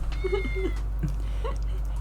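A cat meows in the detective video game Neonsea 3, two or three short, close, high calls over a steady low hum.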